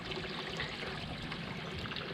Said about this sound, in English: it has been steady raining, and as you can see by the little drops hitting the water here